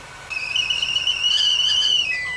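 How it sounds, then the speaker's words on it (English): A kettle lets out a steady, shrill, high whistle as the water inside boils, loud and close, wavering slightly in pitch. "Water is boiling."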